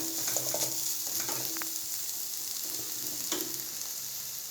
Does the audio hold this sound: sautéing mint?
yes